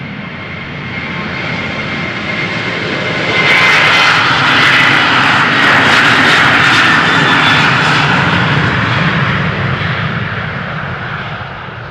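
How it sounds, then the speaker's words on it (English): A Ryanair Boeing 737-800 departs Schiphol's Polderbaan runway 36L, its jet engines a loud, broad roar that swells after a few seconds and holds steady, heard from nearby with no talk. "Ryanair 737-800 outbound Dublin"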